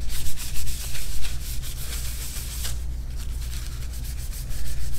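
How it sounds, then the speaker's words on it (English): Close, continuous rubbing as a cloth soaked in rubbing alcohol wipes the bottom of a stand-up paddle board, a loud, steady scrubbing texture with slight surges. "Then we're gonna go ahead and clean the bottom of these."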